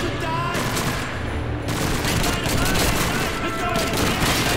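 Call of Duty 2 battle gunfire, dense and continuous, with rapid rifle and machine-gun bursts crackling loudly and booms mixed in, while a player's voice speaks faintly underneath.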